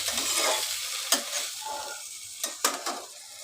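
Broccoli curry fries and is stirred in an oily pan: a steady sizzle with several sharp scrapes and clinks of the spoon against the pan, close and moderately loud, with no talking.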